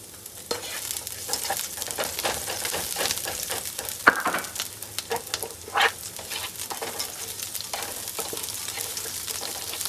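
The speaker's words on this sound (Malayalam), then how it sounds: "ഇതിലേക്ക് നമുക്ക് വെള്ളുള്ളിയും പച്ചമുളകും ഇട്ടിട്ട് നന്നായിട്ടൊന്ന് വാട്ടാം" Garlic and green chili sauté in hot coconut oil, giving a steady, close sizzle with bursts of stirring and scraping throughout. No one speaks.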